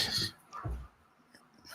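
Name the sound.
dog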